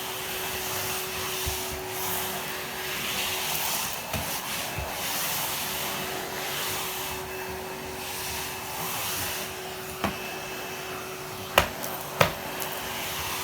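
A Henry cordless vacuum cleaner runs steadily as it hoovers a smooth floor, a constant whirring drone with the nozzle scraping and knocking a few times near the end.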